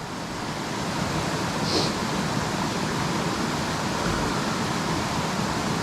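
Cedar Creek on the Ouachita Trail rushes over slick rocks in a steady, close, broadband wash of flowing water, with one brief faint chirp and no voices.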